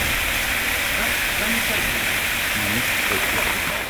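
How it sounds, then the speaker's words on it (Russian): Pressurized water jets flush deposits loose inside a municipal water supply pipeline during night cleaning, producing a loud, steady rushing hiss that holds unbroken throughout. "струями воды отложения трубопровода отторгаются от полости трубы и дальше перемещаются по телу трубы"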